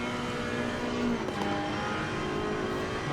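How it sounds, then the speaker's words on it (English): A race car in a sim racing league event at Zandvoort, a steady engine drone with a brief swell as it speeds past, close and loud throughout with no talk. "Oh, as Long comes speeding past"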